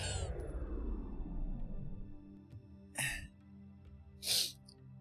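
A sneeze bursts out near the end, preceded by a shorter breathy sharp intake, both loud and close over a quiet room with low background hum, no talking.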